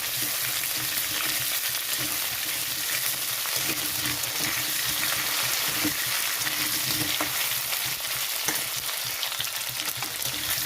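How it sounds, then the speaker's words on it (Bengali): Potatoes frying in hot oil with bay leaf and whole cumin, a steady dense sizzle and crackle running the whole time with occasional soft stirring scrapes, close and unbroken, no voices. "আলুটা একটু ভাজা হয়ে গেছে"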